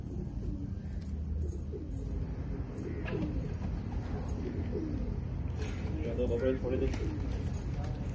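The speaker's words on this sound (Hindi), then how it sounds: "कबूतर चढ़े हुए, देखो क्या होता है दोस्तों" Pigeons cooing repeatedly under near, continuous talk, with steady outdoor noise, as a flock of rooftop-flown pigeons circles overhead before landing.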